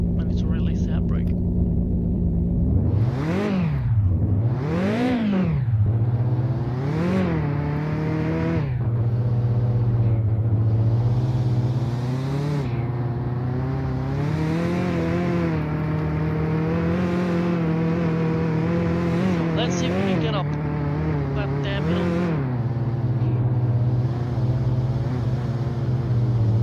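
Engine of the Konic car in Mon Bazou, a steady rumbling drone with several revving surges rising and falling, continuous and close throughout.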